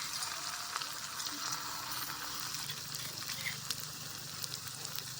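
Food fries in a wok in a small home kitchen, a soft, even sizzle heard fairly faintly and without talk throughout.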